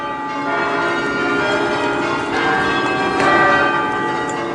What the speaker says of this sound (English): In churches around the country, the bells rang out in celebration.